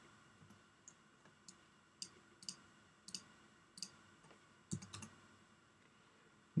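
Light clicking keystrokes tapped out at an irregular pace, a few quick presses at a time, close by with no voices.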